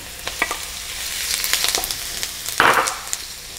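Steady sizzle of pork fried rice, Chowking-style chao fan, being sautéed in a hot pan, with a brief, louder hiss as egg is added near the end, mixed with occasional utensil scrapes and no voices.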